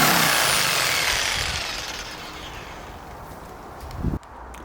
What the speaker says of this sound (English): I'm just going to use my jigsaw just to cut from here to meet this point to cut this part out